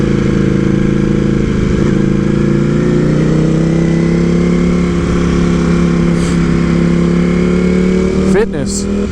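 A Ducati Panigale V4S motorcycle ridden along a bumpy road, its engine holding a loud, steady drone under wind rush. A brief rev and shift is heard near the end.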